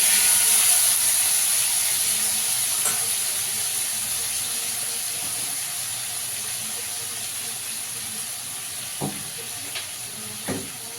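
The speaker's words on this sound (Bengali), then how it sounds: "বেগুনগুলোকে একটু ভালো করে ভেজে নেব।" Eggplant pieces frying in hot oil left over from fried fish, a steady broadband sizzle and hiss that fades slightly over time, with a few faint clicks and stirring knocks near the end.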